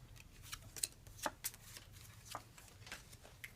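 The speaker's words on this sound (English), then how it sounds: "I will draw 4 cards" Cards being drawn and handled during a Deus board game, soft, close papery flicks and slides in a loose, irregular run of about eight quiet snaps over a faint background.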